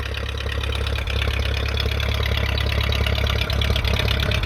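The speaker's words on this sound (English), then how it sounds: "Ain't no 1960 diesel's gonna be doing that after sitting for 20 years" A 1960 Case diesel tractor engine idles loudly and close after a cold start, having sat for 20 years with no block heater and only the choke, in a steady rough chugging rhythm with occasional knocks.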